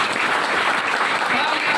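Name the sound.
audience applause at a speech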